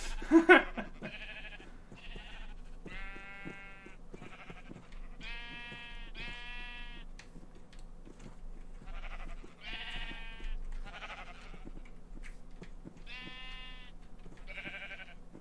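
Sheep bleat repeatedly in a Minecraft-style multiplayer video game, a dozen or so wavering calls spread across the stretch, some overlapping, over a faint low hum.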